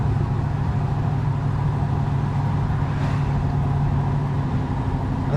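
A 1967 Mercury Cougar XR-7 rumbles steadily from inside the cabin while driving, its low engine drone blending with road noise at an even level throughout.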